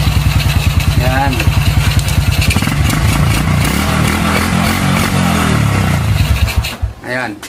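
A motorcycle with an open carburetor idles loud and close while being tuned, its pulsing putter steady before it blips and fades near the end, with someone talking over it.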